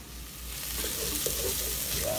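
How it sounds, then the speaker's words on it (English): Onions, cilantro, turmeric, chili powder and coriander sautéing in a pan for chana masala, a steady close sizzle that builds slightly, with a few stirring clicks. "We're gonna saute that for about 1 minute with the onions."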